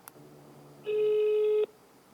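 A single steady electronic phone tone rings once for under a second, clear and close, with faint room noise before and after.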